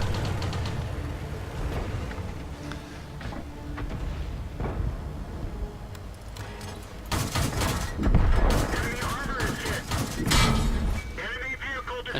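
Tank gunfire in the World of Tanks game, including an Italian L6/40 light tank in battle, with a series of loud cannon blasts and crashes over rumbling engine noise, and a voice talking through parts of it.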